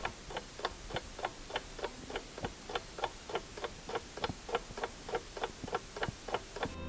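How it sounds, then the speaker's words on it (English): Clock ticking, heard through a paper pipe in a sound-reflection experiment: steady, evenly spaced faint ticks over a hissy background, continuing without pause and with no talk. "Keep a clock near the open end of one pipe and try to hear the sound through the other pipe."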